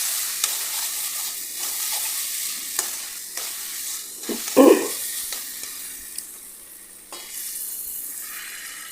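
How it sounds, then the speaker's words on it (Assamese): Hot water poured into a hot cooking pan makes one sharp, loud sizzling burst midway, set among quieter scraping and hissing kitchen sounds. "এয়া গৰম পানী দি দিছোঁ।"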